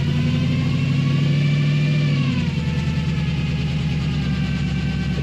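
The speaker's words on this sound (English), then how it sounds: "Hear that idle? Sounds great." A 1930 Ford Model A 5-window coupe street rod idles close by, its engine holding a steady, even rumble that shifts slightly in pitch partway through, with no talking.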